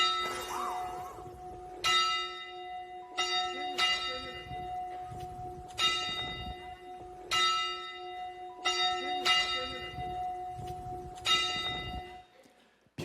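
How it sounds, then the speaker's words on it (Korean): A single church bell that belonged to a late father is struck about eight times at slow, fairly even intervals, each clear ring sustaining and decaying before the next, close and prominent. "여러분 그 종소리 한번 들어보시겠습니까?"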